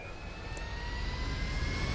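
An aircraft engine spinning up in GTA V, a rising whine with a deep rumble underneath that steadily grows louder over two seconds.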